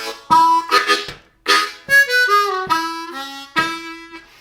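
A harmonica plays a short country blues vamping lick, rhythmic chugging phrases with bent, reedy notes, close and clear with no talking.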